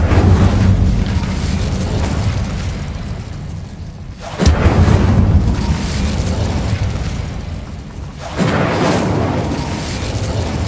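Roaring fire bursts from the Incendio spell cast in Hogwarts Legacy, three loud, sustained whooshing blasts, each several seconds long and separated by brief dips.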